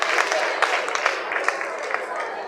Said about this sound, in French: Elle est là, est-ce qu'on peut applaudir?